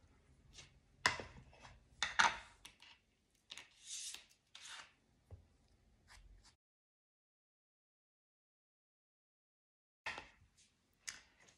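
Paper edges are inked for a junk journal, giving soft, intermittent rubbing and scuffing strokes close by, clustered at first, then a long silence before a few more brief rubs.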